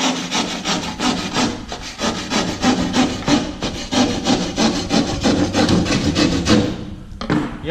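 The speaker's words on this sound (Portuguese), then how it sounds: "para tirar essa rebarba, primeiro eu vou cortar com o serrote" A handsaw cuts through the edge of a drywall board during a built-in furniture job. The close, steady strokes rasp back and forth in a continuous rhythm for several seconds, with no voices over them.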